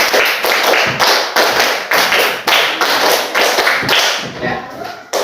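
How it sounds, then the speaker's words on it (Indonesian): A school class of sixth graders claps together on command in a rhythmic pattern of loud, sharp group claps in quick bursts, close and dense, with brief pauses between sets. "Tepuk 1, tepuk 2, tepuk 3, tepuk 4, tepuk 5. 3 kali tepuk 5."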